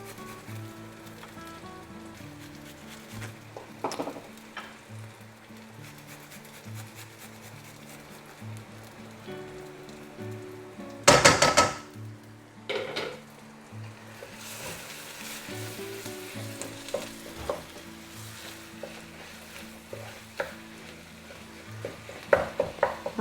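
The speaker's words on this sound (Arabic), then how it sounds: "غنخليوه كيتقلى هكا حتى يطيب" Garlic and spices fry in a pan with a steady sizzle and crackle throughout, punctuated by a sharp burst of louder spattering and occasional clinks of stirring.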